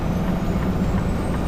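A heavy truck rumbles steadily close by on a highway, a continuous low engine and road roar holding level with no talk over it.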